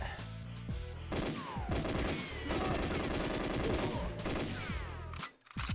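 Rapid gunfire from GoldenEye 007 on Nintendo Switch rattles in sustained automatic bursts amid game music and effects, loud and nearly continuous, with a brief drop near the end.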